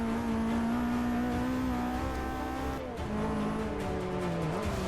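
A race car in Forza Motorsport 6 accelerating hard out of a turn, its loud, sustained engine drone holding steady with a faint tire-squeal edge, close and continuous.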